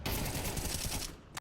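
Heavy sustained automatic gunfire in a Counter-Strike match, a dense rapid burst of shots lasting about a second before cutting off, with a final lone shot.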